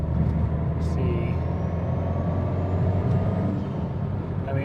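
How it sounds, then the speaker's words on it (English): A truck fitted with an ETS turbo kit cruises in fourth gear, its engine droning steadily while a faint rising whistle of turbo spool climbs across the clip, with road rumble beneath and a brief hiss near the start. "turbo's spooling up"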